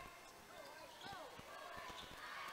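A basketball is dribbled down the court in a high school game, with a series of evenly spaced bounces under a play-by-play voice, sneaker squeaks and a crowd murmuring in the background.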